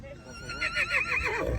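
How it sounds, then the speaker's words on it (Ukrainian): A Belgian draft mare and her three foals neigh at a rural competition in a Ukrainian village, with repeated close whinnies rising and falling over a second and a half while people talk nearby. "Всі три лошечки."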